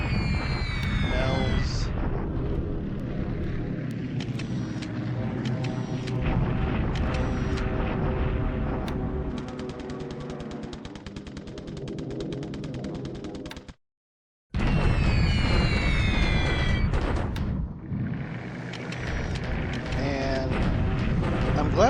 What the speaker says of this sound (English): he's got his Kates back up in the air, bombing us